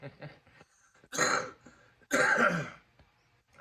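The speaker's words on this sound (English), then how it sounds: "there's that cough that just won't go away" Two harsh, rasping coughs sound close to the microphone, separated by a short pause, with quieter murmuring around them.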